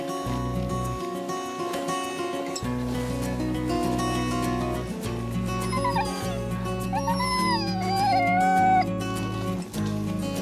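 A pack of excited huskies whines and yips in high, wavering cries that rise and fall over a steady, dense background, loud and close throughout.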